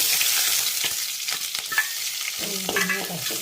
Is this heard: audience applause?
no